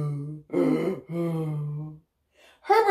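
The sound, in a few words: reader imitating a monster's heavy panting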